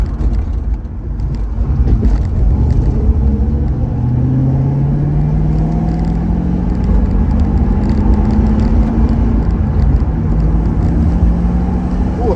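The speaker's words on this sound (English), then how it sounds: "A little bit of Supercharger through the bonnet." A 1UZ/3UZ V8 fitted with an Eaton TVS1900 supercharger and Elate manifold runs in a car, heard as a loud, close, steady rumble with a faint rising whine through the bonnet as it gently accelerates.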